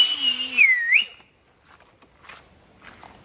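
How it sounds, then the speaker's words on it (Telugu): A person whistles on a rainy monsoon mountain trek to locate lost group members, a loud close rising and falling whistle followed by faint footsteps and quiet outdoor ambience. "వీళ్ళు ఎట్లా అంటే విజిల్ వేసి వింటున్నాం అనమాట సౌండ్"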